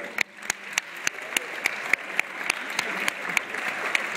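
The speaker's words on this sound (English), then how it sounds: "How about a nice round of applause for these people?" Audience clapping for hypnotized volunteers at a high school all-night party hypnotist show, a steady wash of applause punctuated by sharp, evenly spaced nearby claps throughout.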